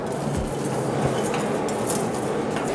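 Lard being stirred in a frying pan, with steady metallic scraping and light clinking of a utensil against the pan over a continuous low sizzle, close and moderately loud.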